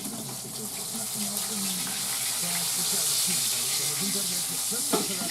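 Continuous hissing sizzle of fish frying in a pan, steady and fairly close, with faint background clatter and a brief louder crackle near the end.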